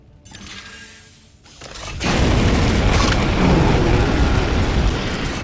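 A burninate flame attack from the Warhammer 40,000 video game builds from a rising mechanical whoosh into a loud, sustained roaring blast of fire that holds steady for several seconds, with no voices over it.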